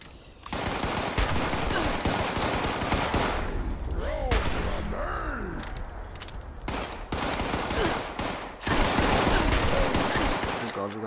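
Rapid bursts of submachine gun fire in the video game Fallout 76, loud and close, repeated in dense volleys with short pauses, with a player's voice briefly heard between shots.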